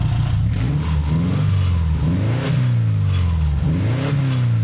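The engine of a 2000 Subaru Forester revs up and down in several swells. It is loud and close, with a rough, clattery idle between the rises, and no one speaks.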